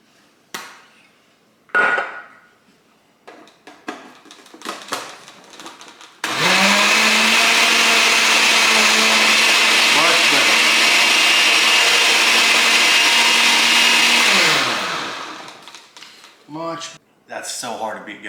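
A kitchen blender whirs steadily for about eight seconds, blending olive oil into a fresh chimichurri sauce. Scattered clatter and handling noises come before and after the loud, even motor drone.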